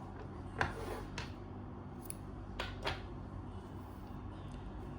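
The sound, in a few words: scissors cutting crochet yarn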